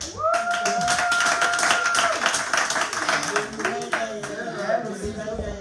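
A church congregation claps steadily to acclaim the Lord for birthdays, with sharp rhythmic clapping over sustained music while voices talk and sing throughout.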